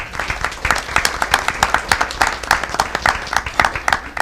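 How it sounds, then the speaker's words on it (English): Audience applause at a school district board meeting, a dense run of rapid clapping that holds steady for several seconds at close range, with no talk over it. "So another round of applause for all of them."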